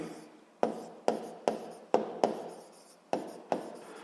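Handwriting with a pen on paper during a physics exercise: about eight short, crisp scratching strokes at a fairly regular pace, close and clear with no talking.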